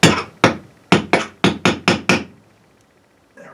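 Seven sharp hammer taps on a wooden leg vise chop, evenly spaced and close, followed by a short quiet pause.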